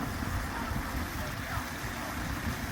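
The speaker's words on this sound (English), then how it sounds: "Here's the waterfall." A small waterfall on the Los Penasquitos hiking trail in San Diego pours in a continuous broadband rush, with possible faint voices of people nearby mixed into the steady water noise.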